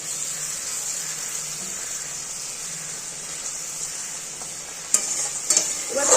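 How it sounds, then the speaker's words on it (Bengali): Eggplant and bitter gourd tipped into a simmering, spiced gravy in a pan, a steady bubbling sizzle throughout, then a few louder splashy knocks and stirring clatters near the end, close and with no talk. "এর মধ্যে আমার এই বেগুন আর উচ্ছেটা এবার ঢেলে দেবো"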